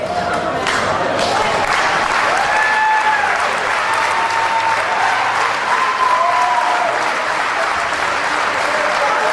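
A crowd at a CZW independent wrestling show applauds and cheers around the ring, loud, continuous clapping with scattered shouts and a few whistles throughout.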